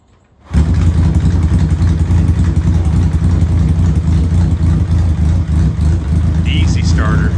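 Barn-find Honda CB350 Four motorcycle engine catches after a brief quiet moment and runs steadily and loudly, a close, continuous mid-pitched rumble that holds throughout with no gaps.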